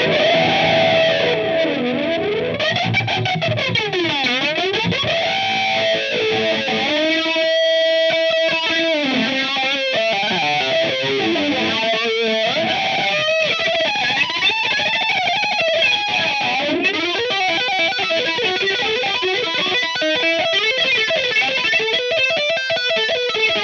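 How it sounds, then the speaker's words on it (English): Electric guitar played through a Boss GT-1 multi-effects processor on its Van Flange setting, distorted riffs and sustained notes with a strong, sweeping jet-like flanger swirl running continuously for over twenty seconds. "The flange might be too intense for some of those lines"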